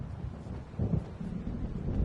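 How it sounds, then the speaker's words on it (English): A storm approaches over open sea in a video game: a steady low rumble of distant thunder and wind swells at about the one-second mark, then rolls on without pause. "It seems there's a storm coming."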